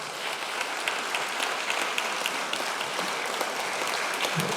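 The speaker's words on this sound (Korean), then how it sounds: "시니어 합창단께 다시 한번 큰 박수 부탁드리겠습니다" Steady, dense applause from an audience for a senior choir, sustained throughout without pause, filling the space at an even level.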